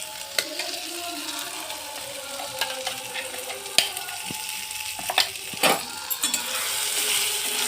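A spoon stirs and scrapes pea paste with cardamom in a hot pan, soft sizzling under irregular metallic clinks and scraping strokes, close and fairly loud.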